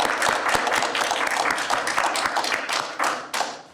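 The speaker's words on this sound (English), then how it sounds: "Let's give these candidates a round of applause for stepping up and running for office." A live audience at a League of Women Voters candidate forum for House District 43B claps steadily, a dense, even round of applause holding throughout with scattered sharper hand claps.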